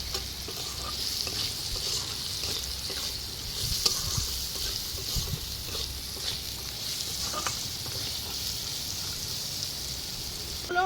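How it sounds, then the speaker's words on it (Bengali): Chopped carrots frying in oil with salt and turmeric in a kadai, a loud, steady close-up sizzle with frequent scraping stirs and no talking. "এই গাজর কুচোনাগুলোও দিয়ে ভেজে নেব।"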